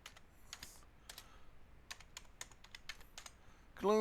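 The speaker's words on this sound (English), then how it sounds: "I'm going to type in the title" Bursts of typing on a computer keyboard as a video title is entered, with irregular clusters of quick, light keystrokes at close range and no speech, ending in a brief louder sound.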